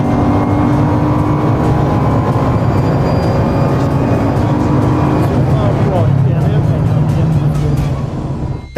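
Race car accelerating at full throttle out of a corner on a track, a loud close engine roar climbing steadily through the revs for several seconds before easing off near the end.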